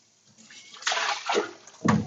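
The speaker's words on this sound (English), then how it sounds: "you want to actually scrub the noodles to remove the starch" Yakisoba noodles are scrubbed by hand in a bowl of water to wash off starch, giving soft sloshing and splashing swishes in a few close bursts, with no talking.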